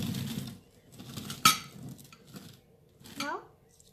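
Breadcrumbs being stirred with garlic powder and parsley in a bowl, a few soft scraping and clinking sounds of utensil against dish, with one sharp clink, close by and fairly quiet.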